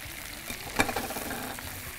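Eggplant and drumstick pieces sautéing in an oil pan, a steady soft sizzle with a brief louder clatter of stirring near the middle, no voices.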